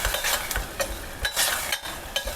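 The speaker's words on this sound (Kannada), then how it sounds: "ಇವಾಗ ಸ್ವಲ್ಪ ಅರಿಶಿನ ಪುಡಿ ಹಾಕಿ ಚೆನ್ನಾಗಿ ಮಿಕ್ಸ್ ಮಾಡ್ಕೊಳ್ಳೋಣ." A spoon or spatula stirs turmeric powder into mint rice in a pan, giving soft irregular scraping and shuffling strokes over a faint sizzle, close and fairly quiet.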